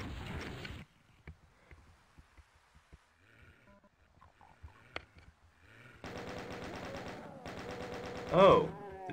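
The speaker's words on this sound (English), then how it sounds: "Oh, the chain gunners appeared." Chaingunner enemies in Doom II open fire with chainguns in a flooded underwater area, heard as two sustained bursts of rapid automatic shots following quieter game sounds, with a louder cry near the end.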